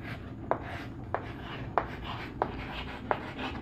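Writing on a board during a blood group lesson: five evenly spaced short taps and strokes, fairly close, over a low background hum, with no talking.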